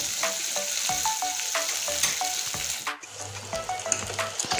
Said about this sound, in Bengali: এইভাবেই ভেজে নেব।